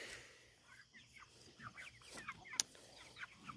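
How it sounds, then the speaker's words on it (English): Soft clucking from several meat chickens, scattered and low, with a sharper peep or squawk standing out near the end amid light background rustle. "here's our meat chickens"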